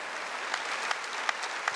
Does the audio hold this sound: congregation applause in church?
yes